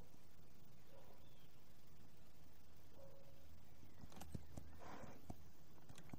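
Horse hooves clip-clop at a steady walking pace in The Legend of Zelda: Breath of the Wild, soft and continuous under faint ambient game sound, with a few louder hoof knocks near the end.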